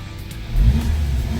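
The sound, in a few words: revving a turbocharged Volkswagen Jetta engine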